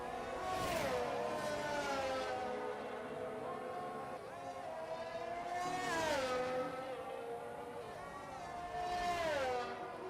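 Mercedes race car in a racing video game lapping the Jeddah circuit, engine whining steadily with rising and falling pitch sweeps as it accelerates and shifts, loud and continuous throughout.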